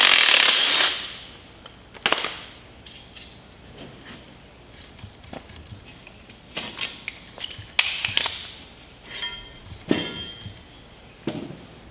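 A hydraulic press is used to split apart a Toyota Hilux leaf spring pack, giving sharp metallic clangs and bangs at intervals over faint mechanical creaking, with no talking.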